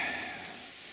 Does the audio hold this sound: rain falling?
yes